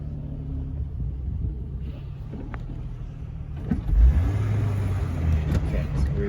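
A Jeep 4x4 engine rumbles low and steady in first gear while climbing a steep off-road hill, swelling briefly louder partway through.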